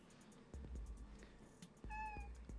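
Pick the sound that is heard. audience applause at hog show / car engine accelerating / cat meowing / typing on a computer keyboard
cat meowing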